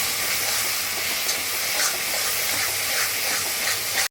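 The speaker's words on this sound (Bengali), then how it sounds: "এখন রসুনটা আমি একটু তেলেটে ভালো করে ভেজে নিচ্ছি" Garlic paste fries in hot oil for a pickle made with garlic and green chilies, giving a steady, close hiss and sizzle with faint stirring scrapes throughout and no talking.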